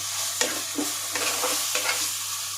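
Liver with garlic and cumin being sautéed in a pan, a spatula stirring and scraping in repeated strokes over a steady close sizzle.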